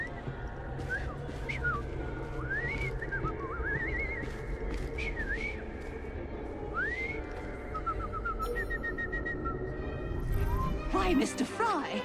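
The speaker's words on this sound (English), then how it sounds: "I've just learned to whistle." A man whistles a series of rising, looping tones close by, with background chatter and room noise underneath and other voices breaking in near the end.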